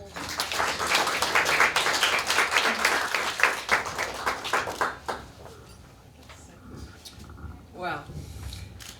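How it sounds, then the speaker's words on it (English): Audience applause at a first annual award gala for autistic kids: dense, close clapping fills the room for about five seconds, then fades to quieter room sound with a brief voice near the end. "Another round of applause, everybody."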